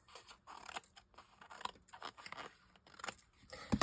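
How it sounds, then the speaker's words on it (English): Scissors snipping off-cuts of patterned paper in a series of quick, close crunchy cuts with light scraping and paper rustle, fairly quiet, with a louder cluster of snips at the end. "So I went round to this side, cut these off like this"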